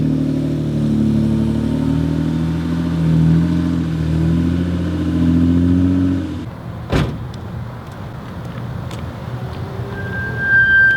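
A BMW E36 engine with a newly installed downpipe growls deeply at steady revs for several seconds, close and loud, then cuts off abruptly into quieter background noise with a sharp click.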